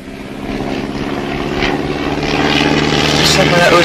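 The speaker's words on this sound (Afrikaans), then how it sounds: "Dat is een vliegtuig." A Tiger Moth propeller biplane drones overhead, its engine hum growing steadily louder while people talk in the foreground.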